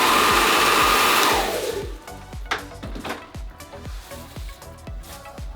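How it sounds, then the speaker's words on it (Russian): A hair dryer on the cool setting aimed at the hair roots during a salon colouring session, blowing loud and close for over a second before switching off, followed by soft tapping and handling noises. "Включаем холодный воздух, чтобы не обжечь клиента. Ставим в корень и включаем."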